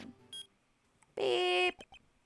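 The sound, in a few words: beep in Phoenix Wright: Ace Attorney, from a video game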